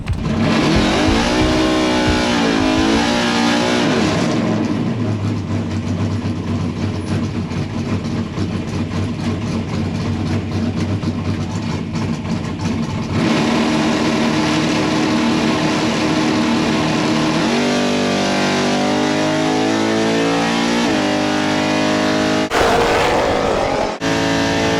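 A race car engine on track during a shakedown run idles with a low rumble, then revs and accelerates hard in loud, sustained bursts with rising pitch sweeps, close and alone without voices.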